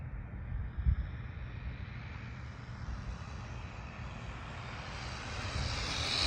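A Jetwood JC14EP RC boat, an MJX clone on a $30 ESC running 4S, with its electric motor at full throttle as a steady, distant, high-pitched whine that rises slightly toward the end, with no talk.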